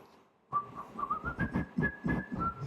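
Someone whistles a short, wavering tune nearby, thin and breathy, with a faint hum under it.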